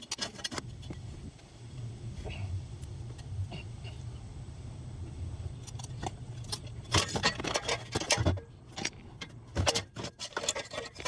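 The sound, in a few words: car downpipe being forced on into place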